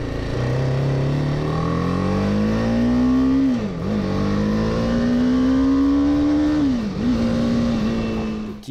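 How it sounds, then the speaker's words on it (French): A BMW G310R single-cylinder motorcycle engine revs up in rising, nasal pitch sweeps with two brief dips between them, loud and close, with no talking. "Au démarrage, le petit mono s'ébroue avec un bruit presque criard."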